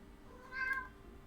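A house cat gives a single short, faint meow midway through, set against quiet room noise and a game's background music.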